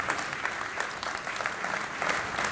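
Concert audience applauding warmly at a live show, a dense and steady clapping from a crowd that holds even throughout.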